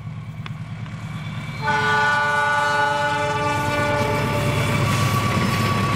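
An Argo Wilis passenger train passing a railway spot near Cicalengka: a low rumble of wheels and engine, then a loud, sustained multi-tone horn blasts in near the start and holds to the end.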